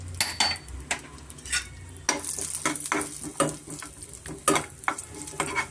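Raisins and cashews frying in hot ghee for festival sweet pongal, a steady sizzle broken by repeated scraping stirs of a spoon against the pan and a few sharp clinks of metal, close and fairly loud.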